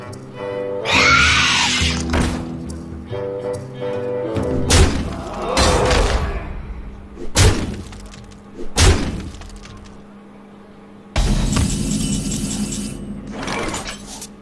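Hearthstone card play destroying the player's weapon in the Naxxramas Arachnid Quarter, with loud glassy shattering crashes and heavy thuds in several bursts, separated by brief quieter gaps, with no talk.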